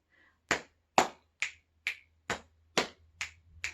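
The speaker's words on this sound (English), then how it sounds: "Lap, clap, snap, snap." Eight crisp finger snaps in an even clapping-rhyme rhythm, close and clear, with near silence between each snap and no voices.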